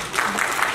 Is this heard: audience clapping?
yes